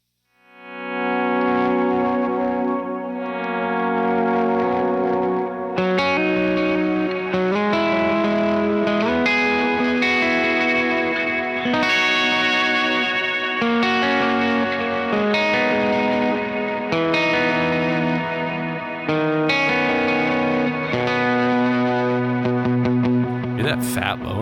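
Electric guitar through a Lauren Audio Mustang pedal on an aggressive setting with wet effects, distorted chords and notes ringing out with echo and chorus, a steady, loud, close performance without talking.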